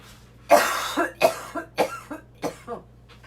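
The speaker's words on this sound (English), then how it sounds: "Oh, I'm gonna cough again." A person coughs repeatedly at close range, a burst of six or seven harsh, rhythmic coughs in quick succession with raspy breaths between.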